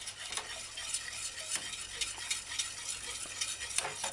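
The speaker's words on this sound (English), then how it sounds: "kind of stir and simmer" A spoon stirs barbecue sauce as it simmers in a pan, soft repeated scraping strokes over a quiet bubbling sizzle.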